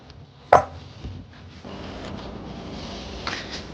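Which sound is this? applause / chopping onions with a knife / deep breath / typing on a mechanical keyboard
chopping onions with a knife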